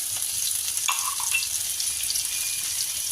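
Crushed garlic fries in oil with a soft, even sizzle and a brief scrape of stirring near the start, at a quiet, close level with no talking.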